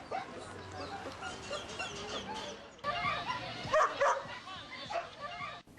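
Dogs at an animal shelter bark, yip and whimper in a busy overlapping chorus, fairly close, with the activity growing denser in the second half.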